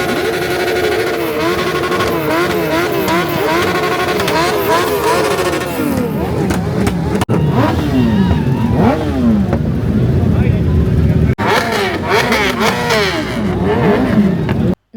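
Suzuki motorcycles rev loudly and continuously at a riding event in Hyderabad, engines rising and falling in overlapping pitch sweeps as bikes pass close by, with crowd chatter mixed underneath.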